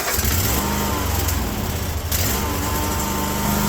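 Cub Cadet 1050 Hydro lawn tractor engine on full choke, running steadily at close range with a continuous loud rumble and a brief dip midway, no talking.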